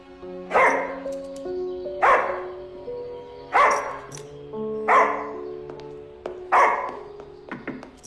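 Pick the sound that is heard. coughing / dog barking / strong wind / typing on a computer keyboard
dog barking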